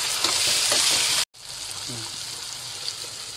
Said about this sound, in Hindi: और इसे अच्छी तरह से भूनूंगी, भूनने के बाद इसके अंदर पालक डाल के भूनूंगी।